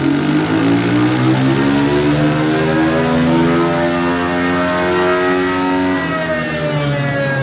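A KTM 500 dirt bike engine fitted with a Power Lips intake revs loudly and steadily close by, its pitch climbing and holding through repeated throttle blips with no talking.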